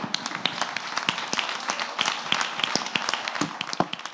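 Audience applause at an informational session on multiple myeloma in Marbella, with scattered, uneven claps from a modest crowd, steady and fairly close, with no talk over it.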